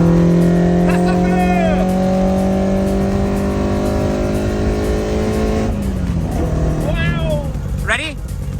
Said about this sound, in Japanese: いつきの指示で加速。